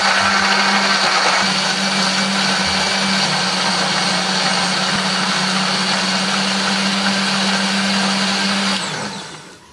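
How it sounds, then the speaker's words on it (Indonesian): A kitchen blender grinds chili, candlenut, shallots and garlic with a little water into spice paste, a loud steady high whir running unbroken for several seconds before winding down. "tambahkan sedikit air supaya lebih gampang untuk menghaluskannya"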